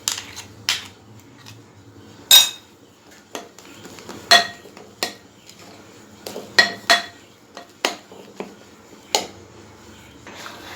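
A spoon or utensil clinks and scrapes against a bowl while whipped cream salad is mixed, with irregular sharp taps and knocks in an uneven rhythm, close and fairly clear with no talk.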